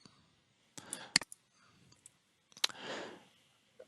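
A couple of crisp computer mouse clicks sound close up in a quiet room, separated by brief rustling handling noise.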